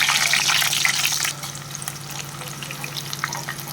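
Mustard seeds splutter and crackle in hot oil, a dense, close sizzle with popping that is loud at first and then settles into a softer, steady crackle, with no voices.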